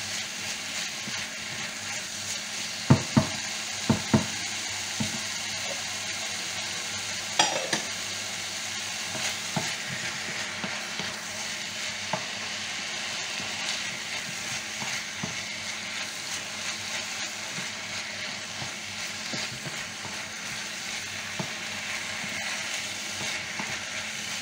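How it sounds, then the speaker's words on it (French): Tomato sauce for stuffed cannelloni simmers and sizzles steadily in a pan, a constant loud hiss with a few clinks of a utensil stirring against the pan early on, no voices. "Et on va laisser mijoter comme ça. Le temps que les tomates réduisent."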